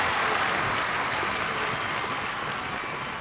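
Studio audience applause on the TV game show Family Fortunes, a steady, dense wash of clapping lasting about three seconds with no voices over it.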